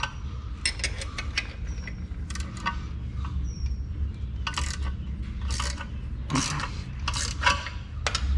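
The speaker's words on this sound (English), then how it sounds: "I'm gonna take these converter bolts off." A ratchet loosens the torque converter bolts on a small block Chevy nitrous engine, producing close, crisp clicking in repeated short bursts with brief pauses between them.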